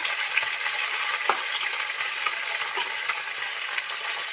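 Parshe fish deep fry in oil, a steady dense sizzle close by with a few faint clicks and pops over the even hiss, no voices.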